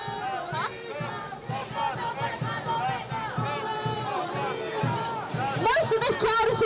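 A protest crowd of many voices shouting and chanting together, loud and continuous, with a sharper burst of yelling near the end.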